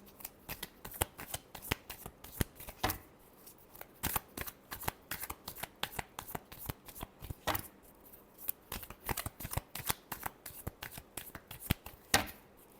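Tarot cards are shuffled by hand close up in a long run of crisp riffling slaps and flutters, irregular but continuous, with brief pauses between bursts.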